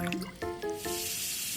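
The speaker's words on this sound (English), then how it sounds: "I'm gonna pour the red and you pour the blue. I get the red and I'll get the blue. And we're gonna pour it at the same time into this cup." Red and blue liquids pour into a cup in a quiet sequence of small drips and splashes, followed by a soft, steady trickle and fizz, close and faint.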